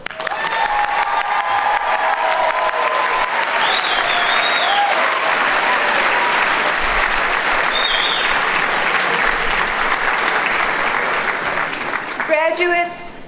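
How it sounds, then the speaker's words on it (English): Sustained applause from a commencement audience at a university graduate ceremony, a steady dense wash of clapping filling the hall for over twelve seconds before a voice begins speaking at the end. "One more round of applause."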